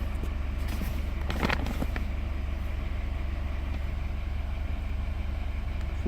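A 2015 BMW 328i engine idles with a steady low hum, even and unbroken throughout, with only faint clicks and no speech.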